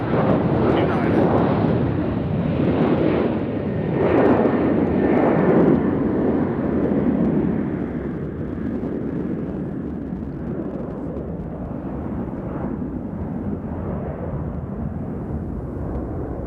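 Military jets at Nashville International Airport give off a loud, broad roar that peaks early, then eases into a steady, more distant rumble.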